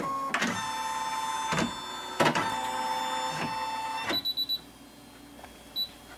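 A Brother Innovis 4000D embroidery machine powers up, giving several sharp electronic beeps and chimes with ringing tones, then a quick run of short clicks and a faint high beep near the end, close by with no talk.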